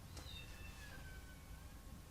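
A kitten lets out one faint, drawn-out meow that slides down in pitch, set against a quiet, steady background hum.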